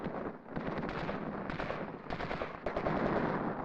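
Infantry section clearing a village, firing on council houses: rapid bursts of rifle and machine-gun fire crackle continuously at a moderate distance, with dense overlapping shots and no voices.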